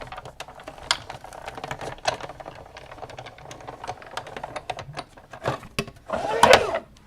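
A Big Shot die-cutting machine is cranked by hand with a rapid run of close, clicking, ratcheting mechanical ticks that build into a louder grinding burst near the end.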